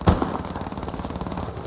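Automatic gunfire from the military shooter game Squad rattles in a loud, rapid burst, a heavy opening shot followed by steady repeated cracks through the whole moment, with no talk over it.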